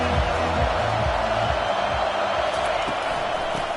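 A steady, loud roar from a packed stadium crowd at an Oregon vs NC State college football game, forming a constant wash of noise with a voice talking over it.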